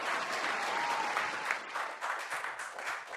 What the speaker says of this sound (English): Yo, clap it up for that.